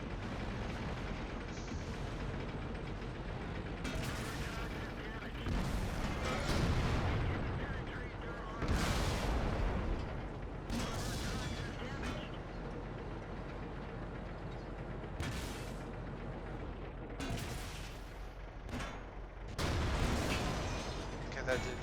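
Tank cannon fire in World of Tanks, heavy booming shots at irregular intervals over constant engine rumble, with talk running alongside.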